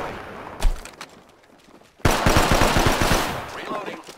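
Gunfire from Apex Legends: a single sharp shot, then a sudden sustained burst of rapid automatic fire, loud and close, in quick repeated cracks.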